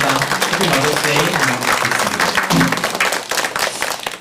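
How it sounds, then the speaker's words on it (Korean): A Korean church congregation in Los Angeles applauds during a Sunday Mother's Day service, a dense, continuous patter of many hands filling the room for several seconds, with some voices mixed in. "우리 같이 좀 박수로 같이 격려하면서 축하합니다"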